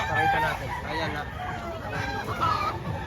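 A prized rooster named Golden Boy crows and clucks at close range in a busy poultry setting in Lipa, Batangas, with steady background noise and chatter.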